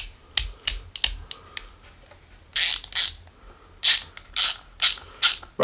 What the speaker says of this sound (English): Ratchets really nicely and really cleanly.